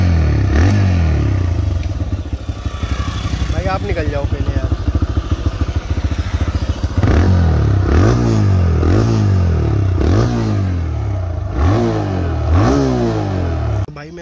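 A TVS Raider 125 motorcycle engine idles and revs repeatedly in short bursts, close and loud, with someone speaking briefly over it.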